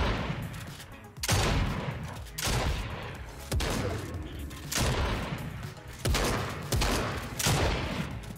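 A single pump shotgun fires in a video game: about seven loud, booming blasts come roughly every second, each with a short decaying tail, at a steady rhythm.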